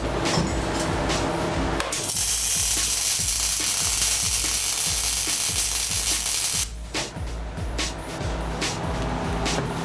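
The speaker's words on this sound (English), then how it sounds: "I'm going to weld up here and this side and in the V's that we've cut on the underneath and weld it all up solid" Close, loud welding on a car cross member makes a steady harsh crackling hiss that lasts several seconds, with rapid mechanical clatter before and after it.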